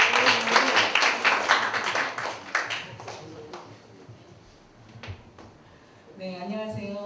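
An audience at a lecture gives a burst of applause that fades after a few seconds, followed by scattered claps, with a voice speaking over the tail end.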